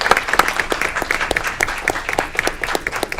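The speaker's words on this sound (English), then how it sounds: "Give them a round of applause for serving our community." Applause at a city council meeting for newly elected board members: a smaller group clapping, individual claps distinct and uneven, fairly close, about three seconds.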